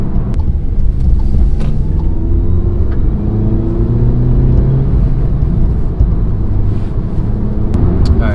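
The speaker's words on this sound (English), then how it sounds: "You can definitely tell it's a turbo car." A Volkswagen Golf R's turbocharged engine drones steadily with a deep, rumbling low end as it pulls under load in fifth gear, loud and close throughout, with faint whistling tones above.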